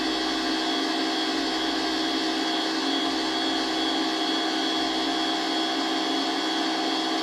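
A small dual-phase POE mini motor spins near 200 hertz, giving a loud, steady high-pitched whine with a dense even hum, continuous and close, with no talk.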